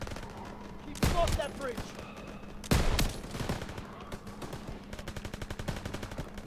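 Machine gun fire in the World War 2 shooter Call of Duty: WWII, heavy bursts near the start and middle, then a rapid rattling stream toward the end, with a voice speaking over it.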